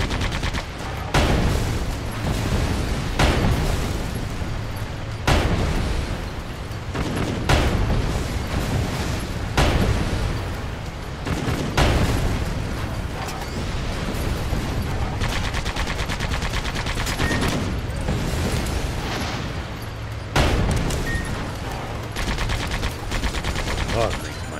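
Heavy tank cannon fire and explosions in the Sand Land video game, repeated loud booms among dense rapid gunfire across the whole stretch, with a voice faintly under the battle.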